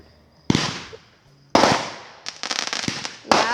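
Canada Day backyard fireworks bursting in a series of loud, sharp explosions, with crackling bursts in quick succession between the bigger bangs, heard close and with no voices.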